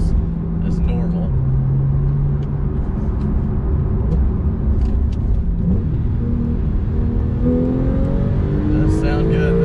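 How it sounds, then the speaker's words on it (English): A Porsche 991.2 Carrera engine, without sport exhaust, drones loudly and steadily from inside the cabin, its pitch climbing as it revs, with a voice talking over it. "They still have the howl on the engine note."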